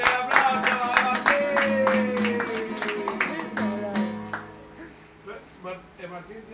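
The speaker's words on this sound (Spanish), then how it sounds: "Fuerte el aplauso, Martín!" A crowd applauds at a live music gathering, repeated claps spread over several seconds with voices and music tones mixed in, fading toward the end.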